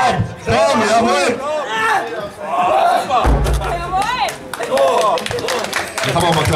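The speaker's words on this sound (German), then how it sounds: "Jetzt haben wir mal klatschen." Audience clapping at a live stage show, rhythmic applause mixed with loud crowd noise, cheering and a man calling out over it.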